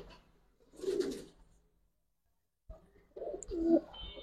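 Two short bursts of close pigeon cooing, soft throaty murmurs separated by a pause of quiet.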